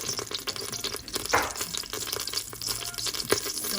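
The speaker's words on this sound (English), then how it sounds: "So you can hear it sizzling." Food sizzles in a hot pan in a home kitchen, a quiet crackling, hissing fry with a few brief louder spits, heard alone and close.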